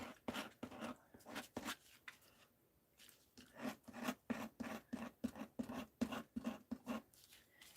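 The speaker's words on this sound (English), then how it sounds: "We'll just scrape it all off." A tool scrapes crayon and glitter off a paper postcard page in a fast, steady run of rasping strokes, close and quiet, with a brief pause partway through.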